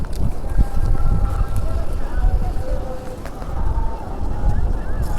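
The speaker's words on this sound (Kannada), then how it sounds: "ಗಾಳಿ ತುಂಬ ಜೋರಿದೆ." Strong wind buffets the microphone at the Kanyakumari seaside on a rainy morning, a continuous loud low rumble with gusty swells throughout.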